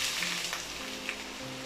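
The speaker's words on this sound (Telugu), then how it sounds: "నూనె వేడెక్కాక సన్నగా తరిగిన ఉల్లిపాయలు వేసుకోవాలి." Finely chopped onions frying in about two tablespoons of hot oil in a kadai for a prawn curry, giving a steady broadband sizzle with faint low hum beneath.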